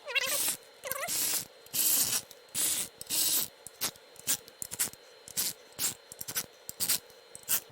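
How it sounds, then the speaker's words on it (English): A ratchet clicks in quick bursts while tightening pressure plate bolts on a Porsche 996, several runs of rapid pawl ticks separated by short pauses, close and clear with no talking. "Time to tighten these bolts down."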